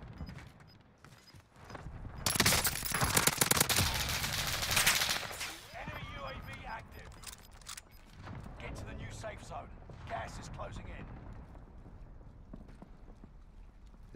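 Video game gunfire crackles in a dense burst of rapid shots, loud for a few seconds then thinning into scattered distant pops and rumble, with a player talking over it.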